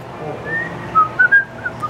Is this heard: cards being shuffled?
no